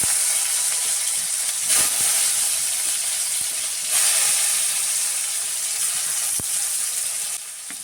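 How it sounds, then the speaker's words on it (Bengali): Chopped tomatoes fry in hot oil in a pan, a continuous soft sizzle and hiss close by, with a few brief clinks of stirring breaking in. "এবার ওই তেলের মধ্যে দিয়ে দিচ্ছি কয়েকটা টমেটো কুচি।"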